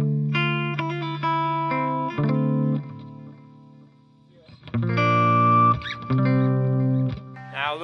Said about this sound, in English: I got a simple digital delay in the loop.